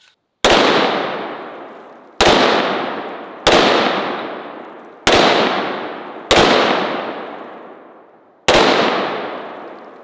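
Six loud, sharp blasts from a hand cannon fired at eggplants, spaced a second or two apart, each a sudden bang with a long decaying tail and nothing else heard between them.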